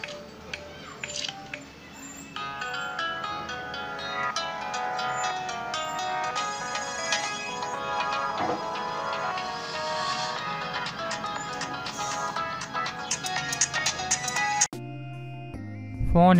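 Ringtone melody from a Qmobile S6 Plus phone's loudspeaker, a continuous busy tune with bright repeated notes, playing alone, then cutting off and followed by a few brief different tones.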